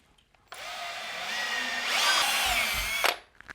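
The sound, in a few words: pipe cleaning tool deburring a pipe for SharkBite fitting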